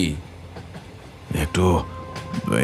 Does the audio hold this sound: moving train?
yes